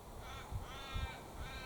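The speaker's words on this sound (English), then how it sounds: "Well, is it a raven or is it a chough?" A crow-family bird, a chough or raven, gives a few harsh caws outdoors, moderately loud and close, with a steady background hiss.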